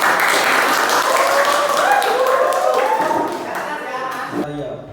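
Classroom applause for students, a fairly loud burst of clapping from a group with voices mixed in, fading out toward the end before a few final sounds.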